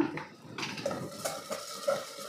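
A utensil scrapes and clinks against a pan as onions fried brown are stirred with turmeric, a few distinct metallic taps at an uneven rhythm, soft and close, no speech.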